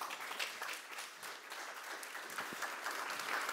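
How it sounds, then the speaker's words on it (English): Audience applause at a digital transformation forum in Milan, a steady wash of many hands clapping, moderately distant and even throughout. "This is the applause from Milan to all of you"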